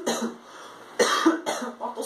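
A person coughing in a short series of about four harsh, close bursts with brief pauses between them.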